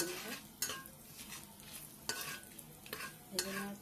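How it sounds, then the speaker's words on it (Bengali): Chillies and finely chopped garlic fry in hot oil with a quiet sizzle, while a utensil stirs and scrapes the pan with a few sharp clinks. No one speaks. "গরম হয়ে গেছে, ওর মধ্যে দিয়ে দিলাম লঙ্কা আর কয়েক কোয়া রসুন কুচি কুচি করে কেটে। এটাকে ভালো করে ভেজে নেব।"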